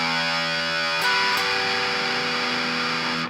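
Sustained distorted electric guitar tones ring together, with a second note struck about a second in, the pitches smearing into one thick, buzzing wash.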